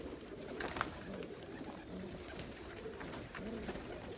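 A young pigeon coos softly in a loft over a steady background hiss, with faint scattered wing and movement sounds.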